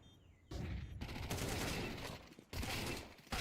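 Grenade blasts and gunfire in Counter-Strike 2 come as several loud, abrupt bursts that each decay into a crackling rush, separated by brief quieter gaps.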